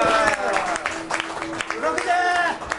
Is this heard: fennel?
no